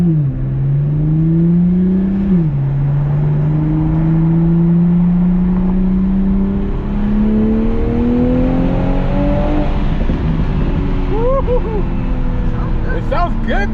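A 2021 Toyota Supra with a new aftermarket exhaust revs up loud and close, its rising engine tone climbing through the revs, followed by crackling pops near the end.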